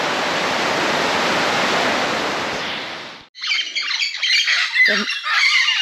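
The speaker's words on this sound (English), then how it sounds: "The birds are going crazy up there." Steady rushing noise like rain or falling water gives way abruptly to a burst of loud, harsh bird squawks and calls, several overlapping nearby.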